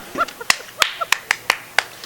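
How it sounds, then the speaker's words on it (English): Six sharp, close hand claps ring out one at a time in a steady rhythm, roughly three per second, with a little soft background sound in between during a comedy skit. "Clap for me."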